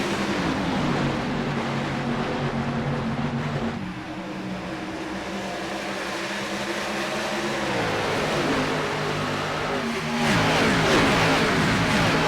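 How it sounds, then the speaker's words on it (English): A pack of 43 race cars in iRacing at Homestead, a 1.5-mile oval, roars past as one continuous layered engine drone that sags, then swells again with a fresh burst of revving near the end. "That is a rush of 43 race cars out of turn 4."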